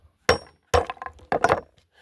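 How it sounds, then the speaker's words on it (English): Roasted ore is hammered into smaller pieces with three sharp metallic strikes, each followed by a short clinking ring and crumbling rattle. The blows are spaced roughly half a second apart, close and clear, with no voices. "We're just hammering these bigger pieces into smaller ones."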